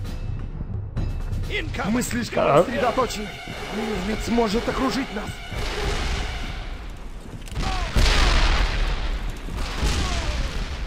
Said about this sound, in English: You can get killed by that artillery.